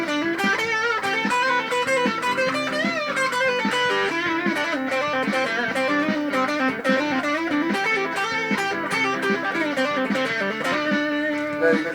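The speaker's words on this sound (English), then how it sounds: "Go to position 2, you've now got a triple bucker" Jim Deacon 24-inch Strat-style electric guitar with a Coiladder switch in position 2, three coils in parallel as a triple-bucker, played continuously with dense overdriven chords and lead lines, close and loud throughout.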